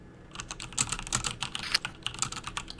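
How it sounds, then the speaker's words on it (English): Fast, forceful typing on a computer keyboard, a dense run of loud, close key clacks with uneven rhythm, no voices. "Sorry for the aggressive typing."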